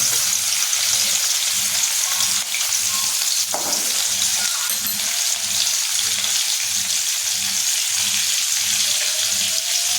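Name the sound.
crushed green chili and garlic frying in hot oil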